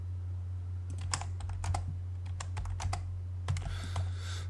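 Keys clack on a computer keyboard in quick bursts of typing, ending in a firmer keystroke like Enter, heard close and clear over a steady low electrical hum.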